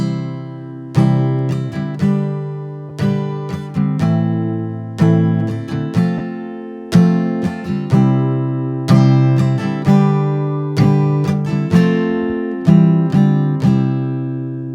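Acoustic guitar strumming the chords of a song with a capo, ringing chord after chord in a steady rhythm, each strum decaying before the next, close and clear with no talking.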